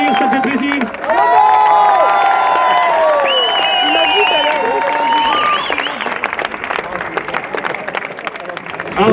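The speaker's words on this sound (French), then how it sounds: "n'hésite pas à applaudir, ça fait plaisir" Concert crowd at a gig, applauding and cheering with loud whistles and whoops layered over a dense wash of clapping, close and sustained.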